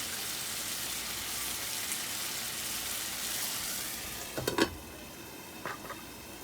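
Beef liver sizzles in a hot pan with a steady, soft frying hiss, and a few brief utensil clinks and stirs come near the end.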